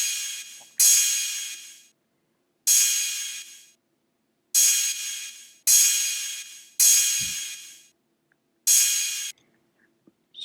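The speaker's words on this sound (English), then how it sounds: "the next one is a crash cymbal" Six bursts of a crash cymbal sample, with lows and mids cut, highs lowered and sidechain compression applied. Each bright, hissing crash swells and then cuts off abruptly, spaced in an uneven repeating pattern with silence between.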